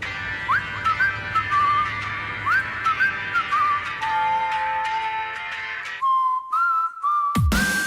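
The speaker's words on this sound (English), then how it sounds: "Hardly anything portrays nonchalance better than the opening refrain, a whistled hook which previews the song's exemplary climax" A whistled hook opens a K-pop song: a bright, breezy melody of short rising notes and held tones, clear and upfront over light backing music.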